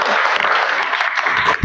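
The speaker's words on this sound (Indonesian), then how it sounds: "tepuk tangan dulu untuk kelompok 2." Brief burst of audience applause for a student group in a university teaching session, close dense clapping that cuts off abruptly.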